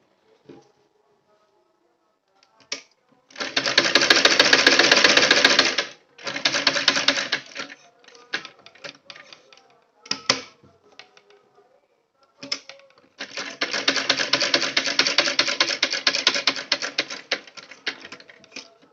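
Sewing machine stitching a sleeve, running in bursts of rapid mechanical clatter, a long run, a shorter one, then another long run, with brief clicks and pauses between.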